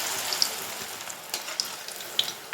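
Cauliflower pakoda pieces frying in hot oil over a medium flame, a soft steady sizzle dotted with small crackles and pops, fairly quiet and close.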